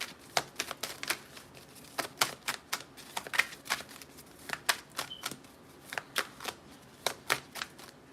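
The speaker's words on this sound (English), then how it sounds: "Like as I'm shuffling" A tarot card deck is shuffled by hand, a rapid series of sharp, crisp riffling snaps in irregular bursts, close and clear with no talking.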